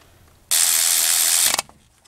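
Ratchet turning a caliper bolt on the front brakes of a 2001 Chevy Silverado 1500 4x4, one loud burst of fast clicking about a second long, close up, with no talk.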